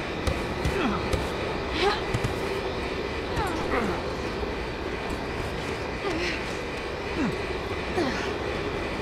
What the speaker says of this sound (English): The plane's gaining altitude.